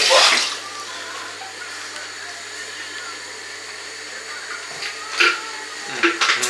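Water runs steadily from a kitchen tap in a student house during Christmas dinner preparation, a continuous close hiss with a few clattering kitchen knocks near the end and no speech.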